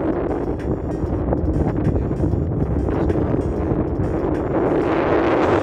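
Strong mountain wind roars continuously against the microphone, a heavy, unbroken low rumble with gusty flutter throughout.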